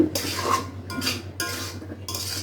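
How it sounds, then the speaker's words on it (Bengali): Pasta with chili flakes stirred in a pan: a spoon scrapes and clinks against the metal in three or four sweeping bursts, close and fairly loud over a steady low hum. "একটু নাড়াচাড়া করে নেই"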